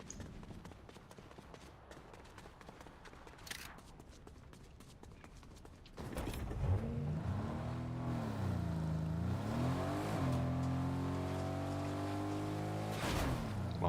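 An off-road vehicle is driven in Fortnite, its engine tone rising and falling through revs with a rumbling drone. The engine is quieter at first and grows louder and busier after the halfway point, with scattered game sounds and faint bumps.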